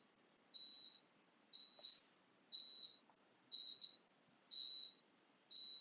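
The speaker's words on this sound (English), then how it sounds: "Got some beeping going on over there" Six evenly spaced electronic beeps, each about half a second long, faint and distant over a quiet background hiss.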